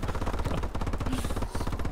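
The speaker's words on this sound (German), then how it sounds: "Das war ein Geschütz." Rapid automatic gunfire in the Call of Duty: Advanced Warfare multiplayer game, dense and continuous bursts filling the moment, loud and close.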